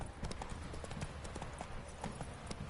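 Horse hooves clip-clop at a trot in a PS4 video game as a rider urges on the horse Roach, a quiet, steady rhythmic clatter under faint game ambience.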